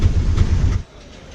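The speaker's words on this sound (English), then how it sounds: "So that's our train that's gone." A train pulls out of Coimbatore station, a loud low rumble of rolling wagons with faint clicking that suddenly drops away to quiet, leaving only soft background noise.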